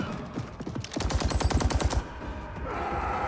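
A quick burst of rapid gunfire comes from a rubber bullet finishing move in Mortal Kombat 11, about a second of evenly spaced shots. Quieter game ambience follows.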